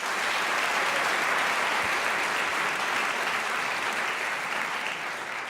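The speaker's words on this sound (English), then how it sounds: "if you could applaud again, we'll fix it in the edit" Steady, sustained applause from a debate audience fills the room, dense and even throughout without any talk over it.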